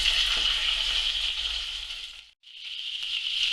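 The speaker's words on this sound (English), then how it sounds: "we're going to add our rabbit legs, start browning them off" Rabbit legs sizzle in a hot frying pan, a steady close hiss of frying that briefly cuts out and then resumes.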